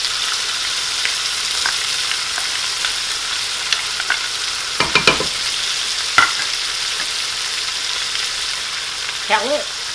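Onion and garlic sautéing in a hot pan for chowder, a steady close sizzle with a few scraping stirs and brief clatters, no talking.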